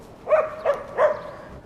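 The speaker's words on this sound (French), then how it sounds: "Il n'a pas l'air content le chien." A dog gives three short barks close by, spaced a fraction of a second apart, with quiet room noise between them and no talk.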